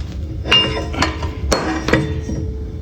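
A front axle bearing being pulled from a 2014 Ram 2500 during a teardown gives sharp metallic clinks and knocks, four or five distinct hits spaced about half a second apart, close by.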